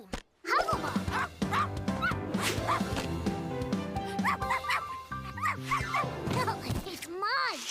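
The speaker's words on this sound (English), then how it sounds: "this is my monster dog, Beckett." A cartoon monster dog lets out a run of yappy barks and yips over bouncy background music, with character voices mixed in.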